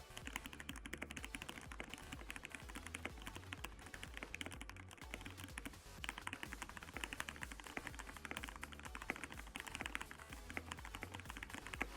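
Steady, rapid typing on a keyboard with soft ABS keycaps, giving soft, slightly hollow keystrokes, continuous and close-up, no voices.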